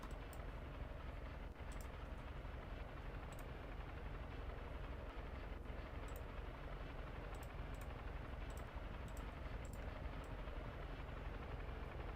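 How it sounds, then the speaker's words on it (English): An Apache helicopter in a Roblox air display game, its rotor drone a constant, even, moderately faint whir with a few tiny ticks scattered across it. "The Apache taking a bow and firing off the rest of its flares as it banks hard right"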